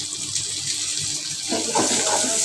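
Tap water runs into a cooking pot with fried onion, garlic and ginger paste while chickpeas are being prepared. A steady splashing stream grows fuller and brighter halfway through, nearby and with no voices.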